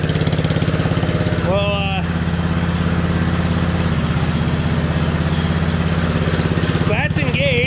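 Economy Power King tiller engine running steadily nearby with its tiller engaged, a loud, even mid-pitched drone, while someone speaks briefly over it.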